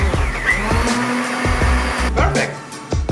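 A food processor pulsing to crush a cheesecake base with melted butter, short loud whirring bursts repeating in a steady rhythm, close by.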